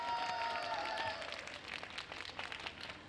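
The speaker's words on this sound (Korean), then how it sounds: "다시 한번 우리 4개 정당 대표님들에게 힘찬 박수 부탁드리겠습니다" An outdoor crowd at a peace rally applauds four party representatives with scattered clapping that follows a fading tone at the start and continues at a moderate, uneven level.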